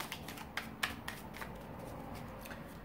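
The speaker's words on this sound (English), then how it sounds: "One more shuffle." Tarot cards are shuffled by hand, producing a series of soft crisp riffling snaps and papery slides, close and fairly quiet against a low background hum.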